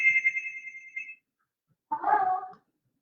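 Doorbell chime at a home front door signaling a delivery, a steady electronic ring followed after a short silence by a second, buzzier tone, both close and clear with no talk.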